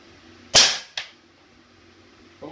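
A rifle fitted with a homemade suppressor fires during outdoor sound-level testing: a single sharp, close crack, then a quick second report or echo, with quiet background and no voices.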